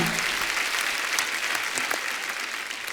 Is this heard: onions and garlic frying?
no